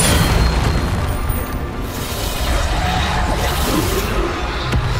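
The Bombarda explosion spell in Hogwarts Legacy booms as a loud, continuous rumble of blasts and debris, sustained throughout with no clear breaks.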